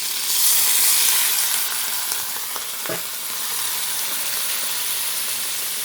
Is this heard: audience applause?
no